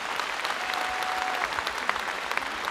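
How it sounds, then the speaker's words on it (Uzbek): Audience applause for teacher Ortiq aka Otajonov at a live music event, a steady dense clapping from a crowd that holds throughout without talk. "Ana shu ustozimiz Ortiq aka Otajonov uchun ham bitta chiroyli qarsaklarni ayamanglar"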